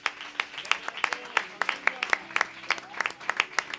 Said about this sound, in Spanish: Den un fuerte aplauso para el Señor.